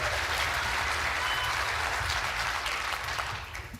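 Audience applause at a televised town hall in New Hampshire, a dense steady clapping from a large crowd that holds strong before thinning and fading at the end.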